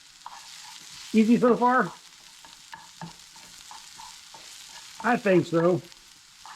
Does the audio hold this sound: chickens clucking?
no